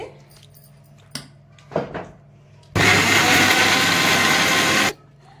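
A mixer grinder roars at full speed for about two seconds, loud and steady, blending beetroot with water, after a few short clunks and rattles.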